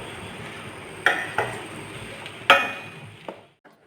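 A spoon stirs chilli chicken in a pan, producing several sharp scraping knocks against the metal over a soft sizzle, with no talking.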